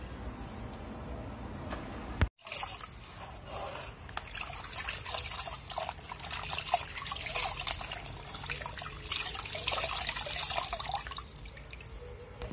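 Water drips and trickles steadily from a cleaning cloth while a window screen is cleaned, splashing in quick irregular patters, after a short break; the flow grows louder toward the end.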